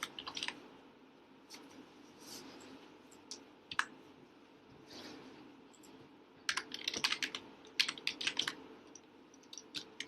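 Typing on a computer keyboard to create a simple document, irregular clusters of close key clicks over a faint room hum, growing into a busier rapid run of taps toward the end.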